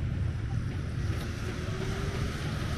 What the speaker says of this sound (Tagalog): Oh, may bangka.